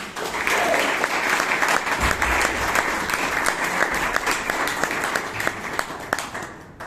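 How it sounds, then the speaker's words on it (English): A crowd at a Toastmasters club meeting gives a steady, dense round of applause, loud and continuous throughout with no talking over it. "with a huge round of applause, let's welcome Toastmaster Vivek Vijay"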